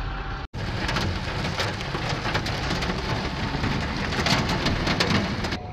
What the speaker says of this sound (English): It started raining and hailing, and so I'm staying in the cab